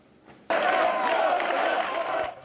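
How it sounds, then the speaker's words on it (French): Applause at a Front National election victory celebration in Brignoles, a sudden loud burst of dense clapping from a crowd that holds steady for about two seconds, after a brief quieter moment. "Ils ont fêté leur victoire avec un tonnerre d'applaudissements."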